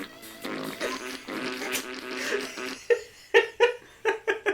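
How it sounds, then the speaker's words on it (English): Comic fart noises from the flippers of a Grossology pinball video game, a series of short, loud, sharp bursts near the end following a stretch of busy electronic music and game sounds. "The flippers make a fart sound every time you hit it."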